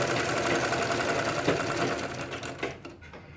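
A sewing machine stitches gum piping onto fabric, running in a fast, even mechanical whir with a rapid needle chatter, close up and alone before slowing to a stop.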